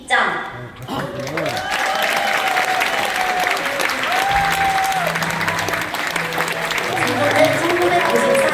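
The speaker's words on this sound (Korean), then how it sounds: "하객 여러분들께서는 따뜻한 마음을 담아 큰 박수로 환영해 주세요" Wedding guests give sustained, dense applause as the groom's parents enter the ceremony hall, steady clapping throughout with music playing underneath.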